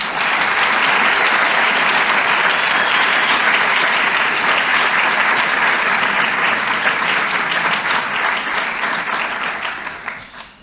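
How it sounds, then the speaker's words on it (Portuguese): Sustained audience applause at a medical school clinical cycle ceremony, dense and loud from the start, steady for about ten seconds before tapering off at the end. "salva de palmas."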